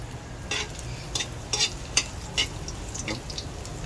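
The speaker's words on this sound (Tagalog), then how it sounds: "Pa-brown natin yung bawang guys." Garlic browning in a pan for a pork dish with chili pepper, stirred with a utensil: a steady low sizzle under scattered scraping and clinking strokes, close and moderately loud, with no talking.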